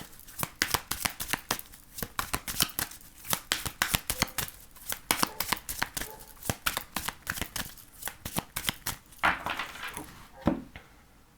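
Tarot cards are shuffled close up in quick, repeated riffling bursts, a rapid papery flutter that keeps going with short pauses and a few louder slaps near the end.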